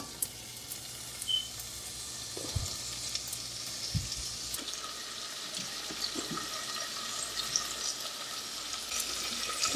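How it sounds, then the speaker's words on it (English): Vegetables fry in warm oil in a clean pot, giving a steady soft sizzle with occasional stirring clunks and light bumps, fairly quiet and heard alone without talk. "once your oil is warm, go ahead and add your vegetables"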